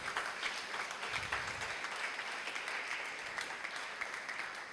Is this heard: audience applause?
yes